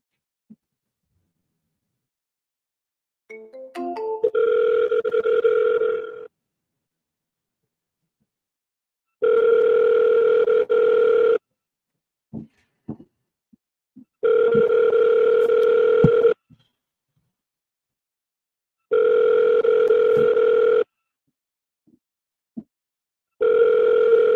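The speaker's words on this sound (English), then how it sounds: "Now I will call." Ringback tone of an outgoing phone call to a real estate contact, a steady two-pitch burble repeating in four long bursts separated by silent gaps, preceded by a brief run of dialing beeps.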